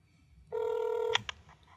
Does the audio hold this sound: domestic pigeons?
no